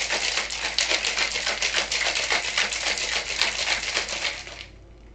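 Rapid, continuous rattling of ice shaken in a cocktail shaker, steady and close, stopping abruptly near the end.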